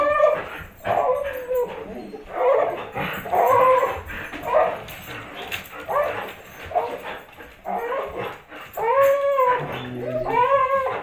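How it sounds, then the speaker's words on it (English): Several dogs greet someone arriving home with a close, loud run of whimpers, yips and rising howl-like moans, varying in pitch and coming in repeated bursts. "when you get home and your dogs say"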